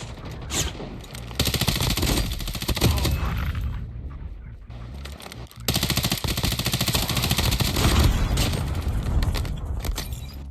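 Bursts of automatic gunfire crackle in a Call of Duty Mobile battle royale match, loud and close, with a brief lull in the middle before the rapid shooting resumes.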